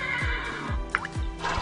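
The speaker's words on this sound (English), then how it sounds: "Those horses are loud. Very loud." Horses neigh in the Minecraft video game, a few loud, shrill whinnies in quick succession with a brief higher squeal in the middle, heard alone without talk.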